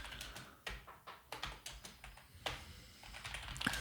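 Typing on a computer keyboard into ChatGPT, a close, quiet run of irregular key clicks with short pauses between bursts.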